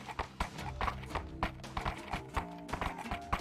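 Horse hooves clop in a quick, uneven rhythm in a VRChat role-play game, close and clear, over a low musical background with no talking.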